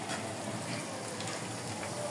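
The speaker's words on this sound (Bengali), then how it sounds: "শুটকি ভাজি।" Dried fish (shutki) with garlic cloves frying in a pan, a low, steady sizzle and crackle that holds evenly throughout, quiet and without speech.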